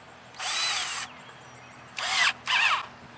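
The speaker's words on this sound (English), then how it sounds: "Just as tight as that drill will take it." Three bursts of a power drill whirring as it tightens a no-hub pipe clamp, a long first run followed by two shorter ones, close by with no talking.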